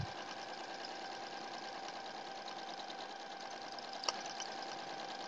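A sewing machine runs steadily while stitching a log cabin quilt, a close continuous mechanical whir with a fast rhythmic hum and one small click near the end.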